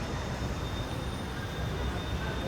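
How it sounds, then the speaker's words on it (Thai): A metro train at an elevated station beside a hotel in Pune, India, giving a steady, even rumble with faint high whine, heard at moderate distance with no speech. "นี่คือรถไฟฟ้า"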